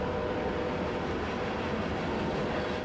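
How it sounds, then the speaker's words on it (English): A freight train passes by in the Gold District as a steady, broad rumble of rolling railcars, close and continuous throughout with no pauses or voices. "It's common to see and hear a few freight trains passing by daily"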